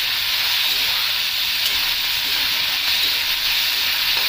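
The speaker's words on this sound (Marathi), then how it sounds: "आपण छान परतून घेऊयात." Tomato gravy with cashews sautés in a pan, giving a steady, even sizzle and hiss that holds at one level throughout, close and without any voices.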